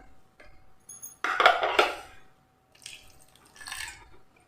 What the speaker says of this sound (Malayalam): ഇനി ഇതിലേക്ക് നമ്മൾ ചെറിയ ചൂടുവെള്ളം, ഒരുപാട് ഒഴിക്കണ്ട,